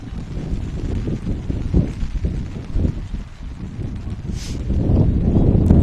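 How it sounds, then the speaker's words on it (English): Wind and rain buffet an outdoor softball game, a steady rumbling gust noise pressing on the microphone throughout, growing slightly louder toward the end, with no talk over it. "Windy and rainy."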